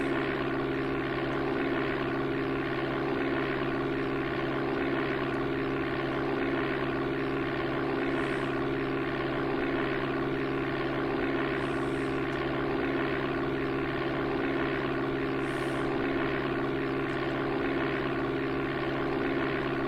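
Steady droning propeller engine of a light aircraft at raised throttle in the Amiga Flight Simulator II game, a continuous tonal hum with strong low harmonics, alone and unchanging throughout.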